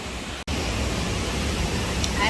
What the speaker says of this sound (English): I'm at the waterfall